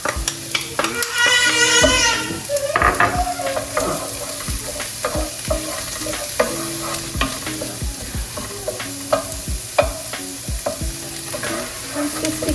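Minced garlic sautés in a pan for a vegetarian mushroom pot pie, a loud, continuous sizzle broken by repeated scraping and clacking strokes as it is stirred.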